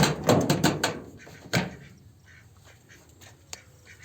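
Ducks at a pond-side duck farm quack in a quick cluster of loud, close calls. A single sharp quack follows, then scattered softer ones over faint outdoor background.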